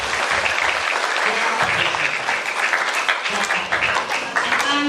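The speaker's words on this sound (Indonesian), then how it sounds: "tepuk tangan untuk teman kita" Loud, continuous applause from a gathered group at a youth jamboree event, dense and even throughout, with some voices mixed into the clapping.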